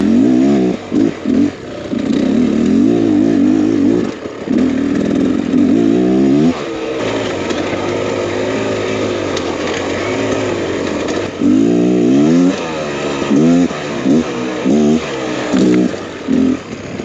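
A 2023 Beta X Trainer 300 dirt bike ridden at night on an off-road trail, its two-stroke engine loud and close, revving up and down and bouncing between throttle surges and brief drops.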